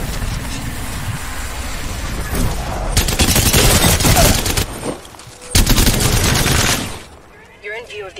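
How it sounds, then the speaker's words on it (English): Enemy gunfire in Apex Legends: loud sustained bursts of automatic shooting, broken by short pauses, ending with a quieter stretch. "Enemy over there. Shooting at me."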